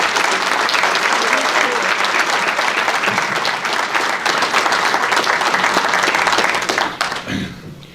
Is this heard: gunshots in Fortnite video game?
no